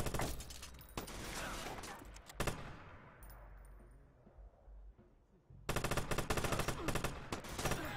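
Rapid automatic gunfire from the Watch Dogs video game, loud bursts of machine-gun fire at the start, a fading lull with debris and echo, then another dense volley near the end.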